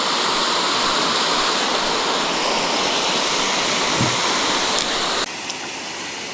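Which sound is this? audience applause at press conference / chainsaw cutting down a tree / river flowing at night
river flowing at night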